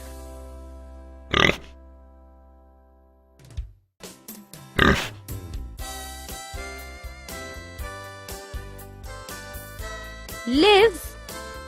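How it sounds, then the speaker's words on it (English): Pig grunts and oinks break out in a few short, loud bursts, with music playing between and beneath them. "Pig."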